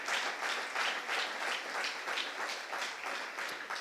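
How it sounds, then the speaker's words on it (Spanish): A church congregation applauds steadily at a sermon, a dense, even wash of many hands clapping without pause at moderate level, with no voices rising above it. "Denle un aplauso al Señor por ese gran amor"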